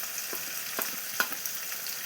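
Tomato and ground cumin frying in a pan on a gas stove, a soft steady sizzle close by with a few brief stirring scrapes, no voices.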